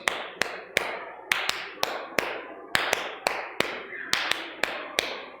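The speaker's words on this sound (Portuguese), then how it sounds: "Faz isso acompanhando nas palmas" Steady rhythmic hand clapping keeping time for capoeira practice, sharp claps in an even pattern with occasional doubled beats, close and fairly loud with no talking over it.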